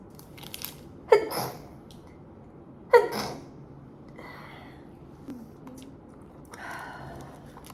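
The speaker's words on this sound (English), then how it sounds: "I'm gonna sneeze." Two sharp sneezes a couple of seconds apart, each a sudden loud burst, followed by faint rustling of packaging being opened in a quiet indoor room.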